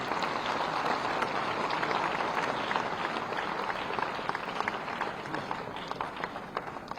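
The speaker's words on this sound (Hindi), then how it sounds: "इनके लिए एक बार जोरदार ताली बजाएं" An audience at a National Doctors Day event claps loudly for families of Covid warriors, a dense, steady roar of hands that slowly thins toward the end.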